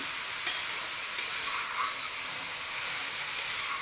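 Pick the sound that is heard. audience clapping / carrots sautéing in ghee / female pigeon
carrots sautéing in ghee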